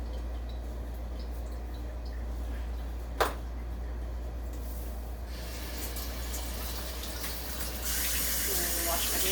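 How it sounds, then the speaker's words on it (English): Tap water runs steadily into a sink while hands are washed, a close continuous splashing hiss with a low hum underneath and a brief sharp clink partway through, growing slightly louder near the end. "Wash my hands a little bit"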